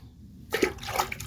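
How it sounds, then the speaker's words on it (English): Water poured onto a sanding pad before wet sanding a car, a short splashing pour starting abruptly after a quiet moment and trickling briefly. "I'm gonna get some water and I'm gonna wet this thing down."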